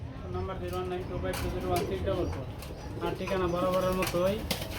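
Fancy pigeons at a pigeon farm coo in a steady, layered chorus, with soft wing flutters and murmuring human voices mixed in underneath throughout.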